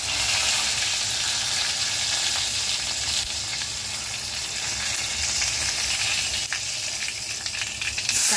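Asafoetida and curry leaves sizzling in hot oil in a pan: a loud, continuous crackling sizzle, close and steady, with a few faint stirring clicks.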